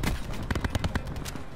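Gunfire in a video game on the Alcatraz map: a quick volley of several sharp, close shots in under two seconds, with no talk.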